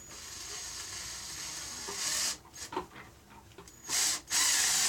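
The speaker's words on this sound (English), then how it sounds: "let's go ahead and screw that in" A screw is driven into a woodworking glue-up, a drill whirring in several short bursts separated by pauses, with a few ratcheting clicks and wood creaks between them, close and without speech.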